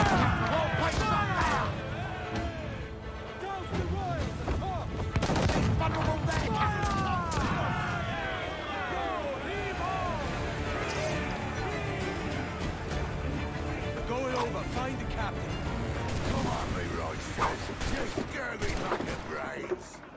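Cannon fire and gunfire from the naval battle game Assassin's Creed IV Black Flag, with repeated sharp booms and blasts in a dense, chaotic fight scene, under game music and character shouting.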